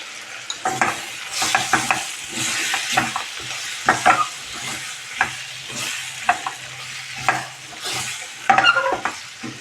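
Fried mushrooms being stirred into a buttery curry, repeated spatula scrapes and clacks over a soft continuous sizzle, close and fairly loud, no voices.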